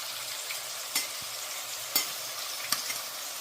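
Marinated prawns frying in hot oil for prawn biryani, a constant close sizzle broken by three sharp clicks of a spatula against the pan.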